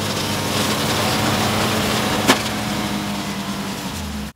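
A 225 HP Can-Am engine powering a lawnmower while it mows a field: a loud, steady, unbroken engine drone with one brief sharp knock midway, then a sudden cutoff.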